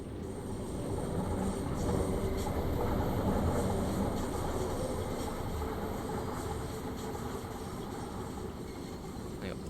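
A 1972 Stock London Underground train runs on the Bakerloo Line in Train Sim World 4, giving a steady, close rolling rumble with rattling wheel noise that holds unbroken for the whole stretch, with no voices.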